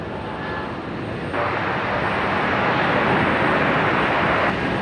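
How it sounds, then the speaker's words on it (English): An Airbus A220 jet departs at night from Brisbane Airport, bound for Melbourne. Its engines make a steady, broad roar that swells partway through and holds loud and continuous to the end. "A220 here, heading off to Melbourne, I reckon."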